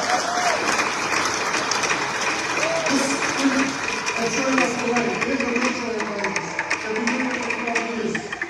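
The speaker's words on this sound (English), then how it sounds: "Can we please give a round of applause to Jesse?" Applause from the audience at a Pasifika rugby hall of fame induction ceremony, a continuous wash of clapping with voices talking and calling out over it throughout.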